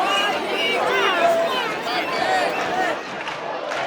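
Villagers at a religious procession for Saint Roch in Spain cheer and shout, a lively crowd roar mixed with excited voices and chatter, fairly close and sustained.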